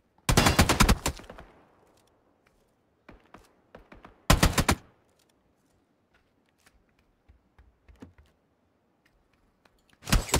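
Video game gunfire comes in sharp bursts: a loud volley at the start, a few scattered single shots, another loud burst near the middle and one more at the end, with near silence between.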